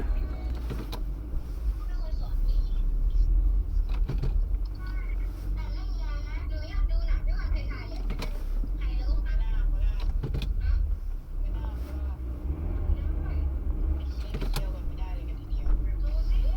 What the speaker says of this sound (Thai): ตอนนี้ผมพยายามจะฝืน ขับไปข้างหน้านะครับ เพื่อที่จะลุยหิมะนะครับ